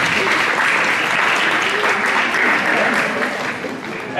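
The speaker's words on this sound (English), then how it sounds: "Please give them a round of applause." Audience applause for the presenters at a ballroom dance event. Dense, steady clapping from a large crowd, loud and sustained, fading slightly at the end.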